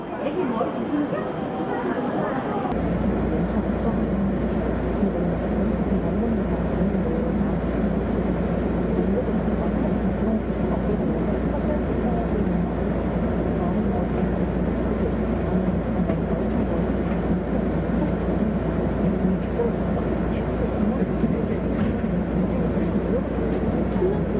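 A train pulls into Yeongdeungpo station with a loud, steady low rumble and rolling wheel noise that holds throughout after a brief quieter opening, with no clear separate voices.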